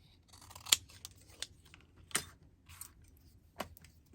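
Scissors trimming excess material from a flat floral bling craft piece, a few separate crisp snips spread out, close and fairly quiet with no talking.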